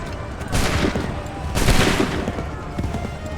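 Soldiers in a video game fire two loud volleys of massed musket gunfire, each a dense crackling burst, about a second apart, close and booming.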